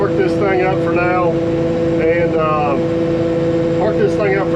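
An 850 bulldozer with a bad fan drive motor runs at a steady idle, a loud, constant engine drone and hum beneath someone talking nearby.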